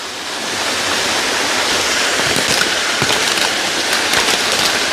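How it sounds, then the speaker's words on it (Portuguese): A small waterfall about six metres high on a rural property gives a loud, steady broadband rush of falling water that fills the whole scene without pause. "A cachoeirinha deve dar aí."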